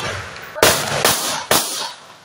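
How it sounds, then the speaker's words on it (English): Three loud, sharp gunshots, each with a short decaying tail, are fired in quick succession by unknown persons during an attack on the NDC Northern Regional office, with no talk. "Those were sounds of gunshots fired by some unknown persons"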